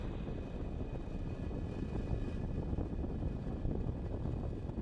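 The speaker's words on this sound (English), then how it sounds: "liftoff of the Falcon 9 and Starlink" A Falcon 9 rocket carrying Starlink satellites lifts off, heard as a steady, heavy low rumbling roar with a crackling texture, distant and continuous, with no talk.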